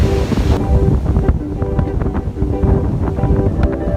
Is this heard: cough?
no